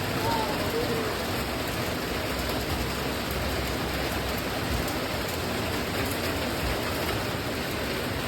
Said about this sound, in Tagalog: Ulan ya? Ulan?